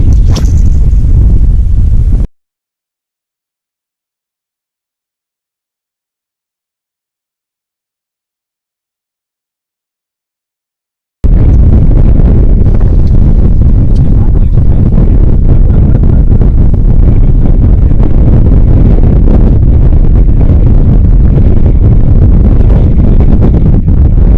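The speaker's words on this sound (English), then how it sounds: "the wind started coming from the north" Strong wind roars and buffets across an open lake on a bass fishing boat, loud broadband gusting after a brief burst and several seconds of silence, continuing steadily to the end.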